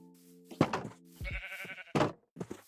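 Sheep in Minecraft, a video game, give several short, close bleats in quick succession, separated by soft thumps and gaps.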